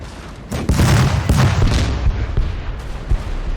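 Howitzer artillery fire in the Napoleon: Total War battle game, heard as loud, rolling booms that start around half a second in and keep coming as overlapping blasts, with no talk.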